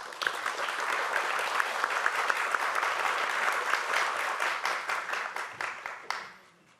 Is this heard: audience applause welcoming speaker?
yes